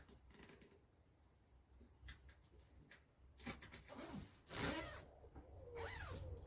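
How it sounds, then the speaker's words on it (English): Zipper newly sewn into a child's fabric cushion, slid open and closed in a few quick, quiet rasping strokes, close by with no talk. "that's your zip installed"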